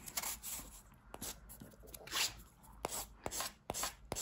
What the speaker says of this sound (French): il faut limer la capsule. Donc je vais prendre mon buffer Model Ones.